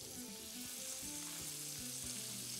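Onions frying in a pan for Egyptian sausage with pasta, a steady close sizzle with faint stirring scrapes and no talk.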